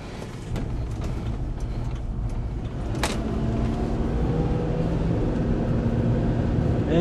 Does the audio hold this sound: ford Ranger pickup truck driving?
yes